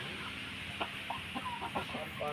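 Free-roaming roosters on a farm give a few short clucks and calls, moderately close, over a steady background hum.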